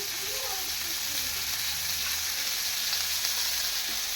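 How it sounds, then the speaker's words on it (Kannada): Garlic fries in a pan with a constant, even sizzle that stays close and fairly loud throughout, with no talking. "ಒಂದು ಗಡ್ಡೆ ಬೆಳ್ಳುಳ್ಳಿ ಹಾಕಿದ್ರೆ ಸಾಕು ಸ್ವಲ್ಪ ಇದು ಫ್ರೈ ಮಾಡ್ಕೊಳ್ಳೋಣ"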